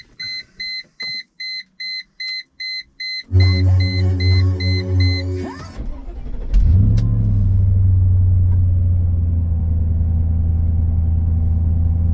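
A chime beeps repeatedly, then a Mercedes C43 AMG engine cranks, catches and settles into a steady, close idle rumble.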